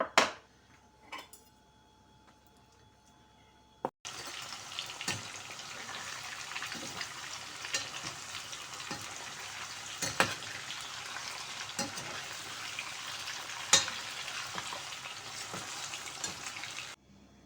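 Liver sizzles and fries steadily in a tray coated with corn flour for Albanian-style liver, a continuous close crackle with occasional stirring scrapes, after a quieter start.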